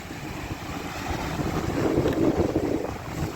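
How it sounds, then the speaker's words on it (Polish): Steady wind buffeting the microphone with a low rushing roar that swells slightly, no voices. "ale jest wiatr."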